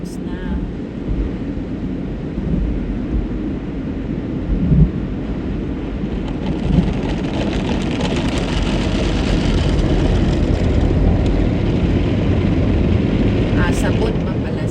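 A drive-through car wash rinses a car, producing a continuous roaring rush of spraying water and machinery that builds slightly and stays steady throughout.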